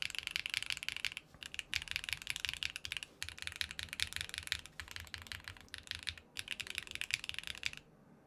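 Rapid clacking keystrokes on a mechanical keyboard fitted with gummy O-rings and cute keycaps, dense and continuous up close, with a few short pauses and no speech.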